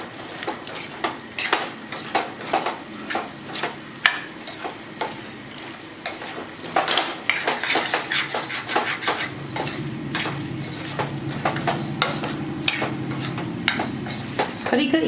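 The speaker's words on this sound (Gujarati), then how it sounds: "તો હવે અહીંયા આપણે આ શાકને હલાવી લેવાનું છે." Spicy Gujarati onion sabji is stirred in a pan with a spoon, giving a steady run of scraping and light metallic clinks against a faint sizzle, close up, with no talking.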